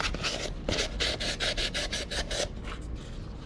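Hand sanding inside an engine cylinder of a 5.3 engine with 1,000 grit paper, a rapid run of about a dozen rhythmic rasping strokes, close and loud, tapering off after a few seconds with no talk.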